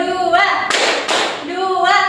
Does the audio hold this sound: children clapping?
yes